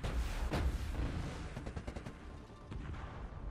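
Sci-fi gunfire in the space game Second Galaxy, a dense run of shots and booms fading in and out over a steady loud rumble, with no voices.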